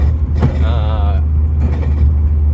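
A slammed BMW E36 318is drives on the street, its engine giving a loud, steady low drone from inside the cabin, with a brief wavering whine and some rattles.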